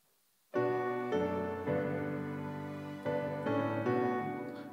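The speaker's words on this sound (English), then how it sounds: "I couple that synthesizer sound with the piano" Synth pad chords layered with piano notes, struck in a steady sequence of sustained chords, clear and alone with no voices.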